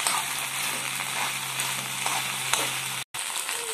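Tender okra (bendi) fry stirred in a pan after salting, a steady, close, loud sizzle with faint scraping strokes throughout, cut by a brief silent gap near the end.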